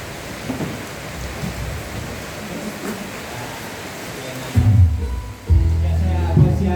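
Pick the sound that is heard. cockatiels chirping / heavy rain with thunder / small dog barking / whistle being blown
heavy rain with thunder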